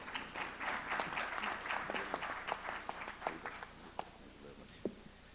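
Audience applause at an energy technology conference in Nigeria as a speaker is welcomed, a dense patter of clapping that slowly thins out, with a few louder isolated claps near the end.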